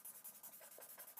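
Faint, close scratching of a pen drawing on a sheet of paper, quick rhythmic strokes repeating steadily over a second with no talking.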